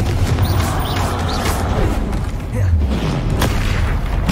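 Confringo fire blasts in Hogwarts Legacy boom repeatedly over loud, dense game noise, with spell effects and battle clatter running throughout.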